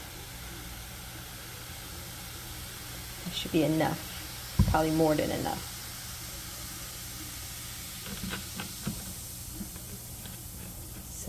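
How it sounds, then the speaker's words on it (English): Vinegar poured into a hot Dutch pot gives a steady, faint hiss and sizzle that runs throughout. A person talks briefly over it, and there is some clatter. "It's sizzling up."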